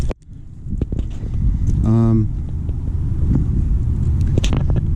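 Cammed 2012 Ram 1500 engine idling after a cold start, a steady loud low rumble throughout with a brief rising whine near the middle and some faint handling noises nearby.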